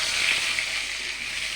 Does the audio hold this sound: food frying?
yes